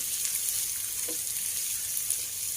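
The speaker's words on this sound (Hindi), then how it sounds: "लहसुन अदरक हम अच्छे से भून लेते हैं।" Garlic and ginger fry in a pan for dhaba-style maghaz masala, a continuous soft sizzle and hiss at moderate level with a brief faint stir partway through and no voices.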